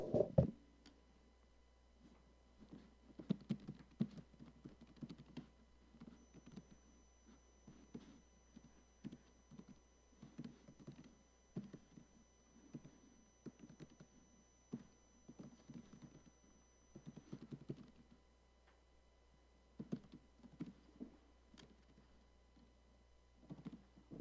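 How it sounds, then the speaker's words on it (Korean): Computer keys clatter in quick bursts of typing at a desk, faint and close, with irregular pauses between runs of keystrokes over a low steady hum. "라이브 생방송이다 보니까 타자가 잘 안 나가네요"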